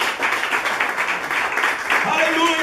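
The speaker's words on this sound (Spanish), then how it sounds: "alguien le da un aplauso al Señor." Congregation applause at a Spanish-language church service, a dense wash of clapping hands filling the clip with voices talking over it.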